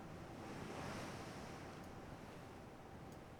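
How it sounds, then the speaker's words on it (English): Calm ocean waves and wind in the naval video game Ultimate Admiral: Dreadnoughts, a steady, even wash of surf and breeze with no talking. "waves are not that bad. Calm wind, calm waves."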